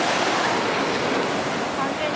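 Ocean waves break and wash continuously with a loud, steady roar of surf close by.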